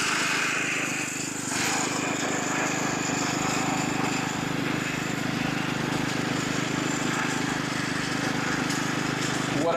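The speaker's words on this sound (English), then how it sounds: "I'm cutting at 8 millimeters right now on this Kentucky bluegrass." A mower cutting Kentucky bluegrass at a low 8 mm height runs as a steady, loud engine drone through the whole stretch, with no break and no one talking.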